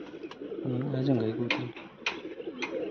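A pigeon coos close by in a short run of soft, low, warbling notes, followed by a few faint clicks and rustles.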